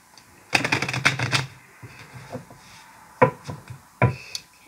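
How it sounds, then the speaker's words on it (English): A tarot card deck is shuffled by hand, a rapid burst of crisp riffling card flicks followed by a pause and two more brief shuffling bursts, close and fairly loud. "I'm just going to give this a quick shuffle."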